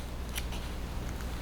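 Pointy scissors snip quilting stitches in thread over toilet paper with a couple of quick, faint metallic clicks close up in a quiet room.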